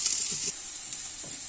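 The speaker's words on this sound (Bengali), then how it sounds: "ওই পাশে ফুলকপি ভাজা হচ্ছে, দেখুন, আর এই পাশে ভাজা হচ্ছে বিনস।" Cauliflower and beans fry in oil in a pan, a close, bright, hissing sizzle that stays steady over a brief moment, with faint stirring taps beneath.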